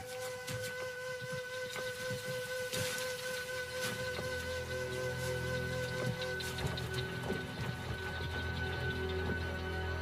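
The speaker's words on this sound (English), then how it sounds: "Rain in the Kalahari is always patchy and unpredictable." Steady rain falling in the Kalahari, a dense even hiss of drops on the ground with faint low rumbles beneath, continuous and fairly loud throughout with no speech.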